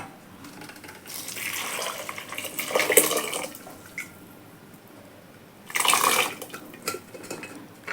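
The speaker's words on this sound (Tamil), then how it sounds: "நம்ம பருப்பு வேக வச்சுருக்கோம் பருப்பு அதே ஊற்றிக்கிறோம்" Cooked lentils are poured into a pot for sambar, with clanks of a metal vessel and spoon and a wet sloshing pour in two louder bursts among quieter kitchen sounds.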